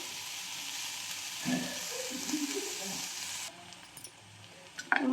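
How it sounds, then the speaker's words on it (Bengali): Onion frying in oil for a Bengali village-style prawn and banana-stem curry: a steady, soft sizzle runs throughout, with occasional low knocks and scrapes from stirring, then quietens near the end before a couple of sharp clinks. "তো পেঁয়াজটা ভাজা হোক।"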